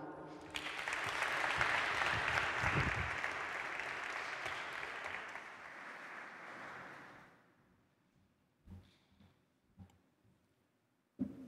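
Audience applause at a university undergraduate welcome event, a loud sustained crowd clapping for about seven seconds before dying away into near silence with a few scattered thuds.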